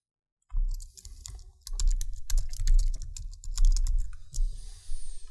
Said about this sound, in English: Then just type the desired watermark text.